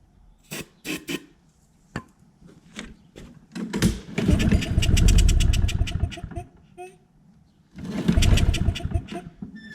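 Craftsman push mower engine cranking after a shot of starting fluid, rapid chugging bursts that sputter briefly twice without catching, close by with quiet clicks between pulls.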